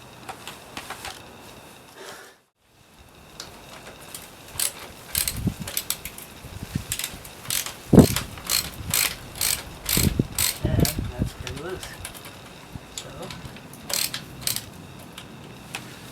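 Socket wrench ratcheting on a heat shield bracket of a 2011 Suzuki GSX-R600, rapid clicking bursts in irregular runs after a brief pause, close and crisp with occasional metallic knocks.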